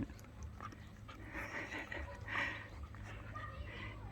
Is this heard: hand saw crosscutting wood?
no